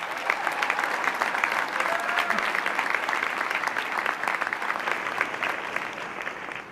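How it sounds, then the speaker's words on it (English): Sustained applause from a commencement audience at Wentworth Institute of Technology, a dense, steady wash of clapping hands from a large crowd that continues evenly throughout. "let's give her a big round of applause."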